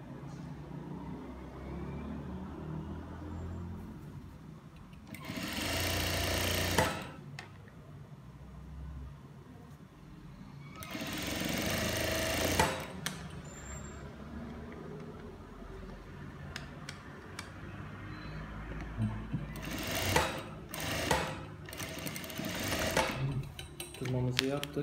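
A sewing machine runs topstitching on palazzo trousers in three loud whirring bursts separated by quieter gaps of handling noise, the machine close and stitching steadily.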